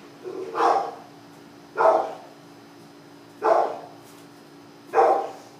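A dog barks four times indoors, single evenly spaced woofs about a second apart, fairly close and loud over a quiet room hum.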